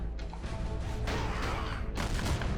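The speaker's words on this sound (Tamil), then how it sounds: "நல்லா வெடிக்குது." Explosions go off in the martial-arts video game Kung Fu Strike, loud booming crashes in a dense run, with one big burst near the start and another near the end.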